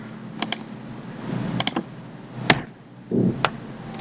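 Typing on a misbehaving computer keyboard while writing Java code, a few sparse sharp key clicks in small clusters, close up over a quiet room hum.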